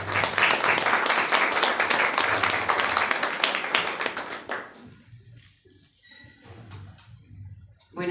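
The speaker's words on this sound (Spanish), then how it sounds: "recibimos con cálidos aplausos a la doctora Soledad Maldonado" An audience at a literary event for women writers gives a sustained round of warm applause that fades out partway through, leaving a few scattered claps and quiet room noise.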